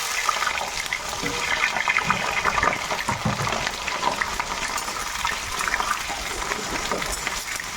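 Potatoes tipped into hot oil with frying garlic and red chilli give a loud, continuous sizzle and crackle that holds steady throughout, with no talking.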